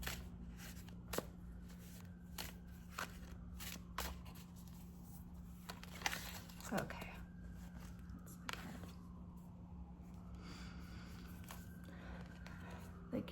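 A deck of tarot cards is shuffled quietly and repeatedly in a hushed room, with soft riffling bursts and small taps spread across the clip and a faint steady hum underneath.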